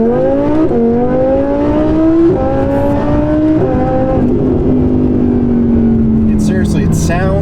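A supercharged Audi R8 V10 accelerates hard up close, its loud engine note climbing in pitch through several quick gear shifts, with a rising supercharger whine and a few faint squeaks near the end.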